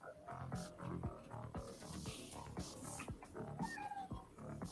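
A talkative pet cat meows again and again at close range, with short, strained calls coming in quick succession over low background noise.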